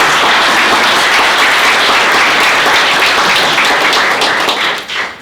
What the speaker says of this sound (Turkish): onlara bir alkışlamanızı istiyorum